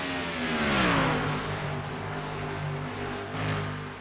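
Loud, sustained roar of stock car engines passing close, with rising and falling pitch as cars sweep by, dense and continuous throughout.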